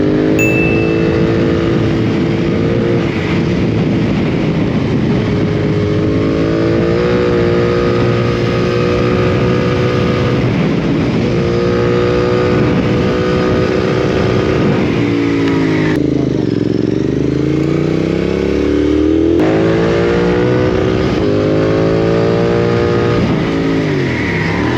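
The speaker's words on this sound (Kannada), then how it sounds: "ಇದು ಬೈಕ್ ಇದರದ್ದು ಸೌಂಡ್ ಇರೋದೇ ಹೀಗೆ, ಏನು ಮಾಡಲಿಕ್ಕೆ ಆಗಲ್ಲ." A Royal Enfield Continental GT 650 motorcycle's engine, loud and close while riding, holds a steady harmonic drone, then dips as the throttle closes and climbs again as the bike speeds back up.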